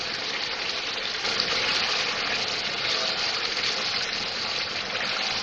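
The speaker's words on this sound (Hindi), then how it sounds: "दो 3 टेबल स्पून में इसमें पानी डाल रही हूँ।" Water poured into chicken handi masala gravy in a pan gives a steady, close hiss and sizzle that runs through the moment without pause.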